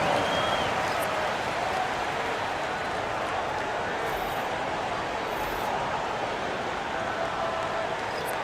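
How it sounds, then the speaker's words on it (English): Virtual crowd applause in an NBA 2K basketball game, a steady broad wash of clapping and cheering that holds evenly throughout at moderate level. "Both teams will make substitutions. Give them a round of applause."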